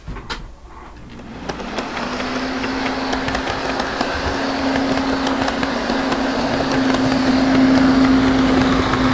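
A model Metra locomotive hauling Rock Island bilevel cars runs along a layout, a smooth steady motor hum with a sustained tone and faint rail clicks that grow gradually louder.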